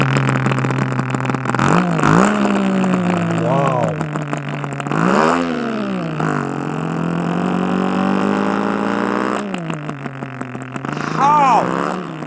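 A man vocally imitates a Suzuki Samurai motorbike engine, his voice rising and falling in repeated revving swells over a steady droning hum, loud and close.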